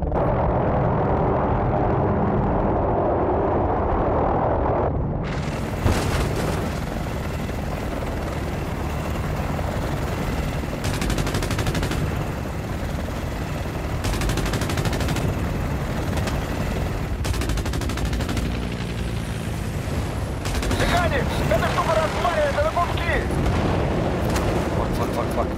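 Rapid gunfire and explosive bursts from a video game shootout, dense and continuous over a steady helicopter-like rotor drone, loud throughout with a player's voice talking over the action.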